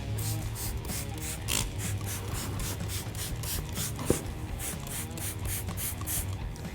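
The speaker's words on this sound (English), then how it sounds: "I'm going to take my brush here and then I'm going to spray it directly on the surface." Repeated hissing sprays of wheel cleaner and scrubbing brush strokes on chrome motorcycle wheels alternate in a steady rhythm up close, with one sharp tap partway through.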